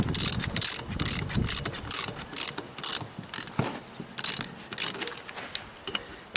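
Ratchet wrench clicking against the wheel of a Ford 8N tractor with a liquid-filled tire, fast bursts of ratcheting pawl clicks in uneven strokes, close and fairly loud, with pauses between pulls.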